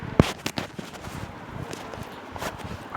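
Firecrackers bursting outdoors during a festive celebration, with one sharp loud crack near the start followed by scattered fainter pops and crackles amid a busy ambient background, with no speech.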